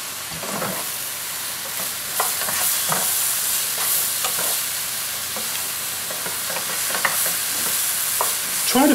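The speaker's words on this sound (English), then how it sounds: "we're going to saute the mushrooms and then we're going to put them off to the side" Mushrooms saute in a hot pan with a constant sizzle and hiss, broken by repeated scrapes and stirring strokes, close and fairly loud, with no voices.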